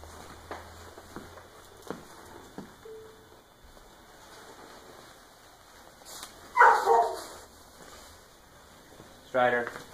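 A dog barks near a Tesla SUV being unloaded, two sharp bursts a few seconds apart, fairly close, after a quieter stretch with a few soft knocks and faint talk.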